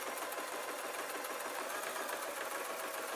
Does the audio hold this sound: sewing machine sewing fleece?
yes